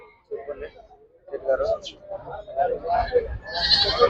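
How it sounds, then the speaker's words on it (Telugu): Goats and young kids at a livestock market in Miryalaguda, Nalgonda district, Telangana, giving a few short bleats amid the crowd's chatter, with people talking loudly over and between the calls. "ఇక్కడ వచ్చేసి పిల్లలు మేకలు ఉన్నాయి"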